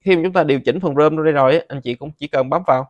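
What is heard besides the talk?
No everyday noise stands out behind the speech.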